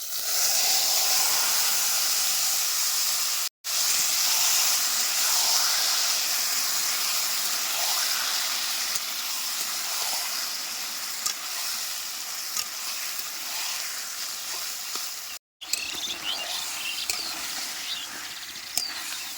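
Meat frying in hot oil with cumin and a little sugar, a steady close hiss and sizzle that runs almost unbroken, with two short gaps and no voices.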